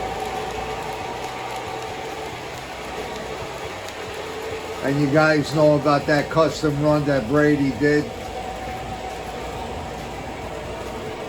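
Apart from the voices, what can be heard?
Lionel Camelback Blue Comet model train running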